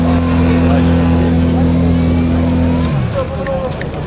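A Valach two-cylinder 170 cc petrol engine runs with a loud, even drone for most of the stretch, then cuts off abruptly. A quieter background with some speech follows.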